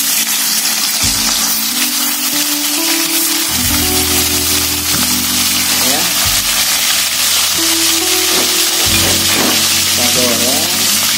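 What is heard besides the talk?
chicken pieces frying in a pan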